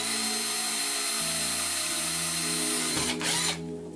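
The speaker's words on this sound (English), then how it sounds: "what you'll need to do is drill a hole in the cap" A power drill whirs steadily at close range, its pitch shifting as it bores a hole through a container cap, then cuts off near the end.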